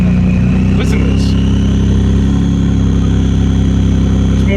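A modified turbocharged car at a car meet lets out a loud, constant, close engine roar with a faint rising turbo whistle, heavy and sustained throughout.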